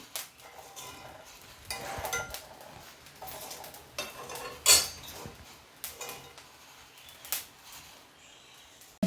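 Black chickpeas are roasted in a pan over a high flame, with sparse scrapes and rattles of a utensil against the metal, some sharp clinks, in a quiet kitchen.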